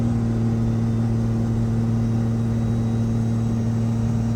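A 1700-horsepower Cummins diesel truck with a 48RE transmission and hood stack, towing and pulling in second gear, gives a steady, loud, deep engine drone with strong low hum throughout, no talking.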